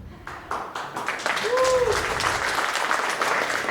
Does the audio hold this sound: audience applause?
yes